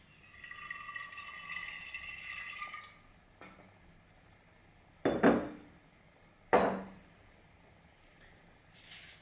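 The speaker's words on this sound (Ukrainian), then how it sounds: "Невелику частину цієї води наливаємо в колбу" Water pours steadily into a laboratory flask for a few seconds, then stops, followed by two sharp glassy clinks close by.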